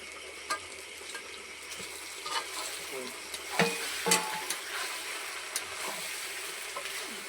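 Potatoes frying and being stirred in a pan in a Sundarban village kitchen, a steady soft sizzle with occasional scraping clicks and clatters, fairly faint and close.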